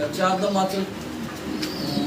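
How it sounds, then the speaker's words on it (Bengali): Soft, low cooing of a young pigeon repeats in short phrases close by, with a voice talking over it. "এই যে দেখেন একদম ইয়াং কবুতর"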